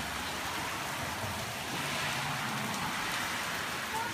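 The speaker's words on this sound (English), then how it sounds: "Oh man, it's hailing." Hail and rain falling outdoors during a spring storm, a steady dense hiss of drops striking surfaces, continuous and fairly loud throughout.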